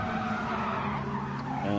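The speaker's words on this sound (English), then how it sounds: "And the car just spins around." A race car in the Gran Turismo 7 racing game skids on cold tires over a curb and spins around, giving a continuous loud tire squeal with engine tone throughout, with no talk.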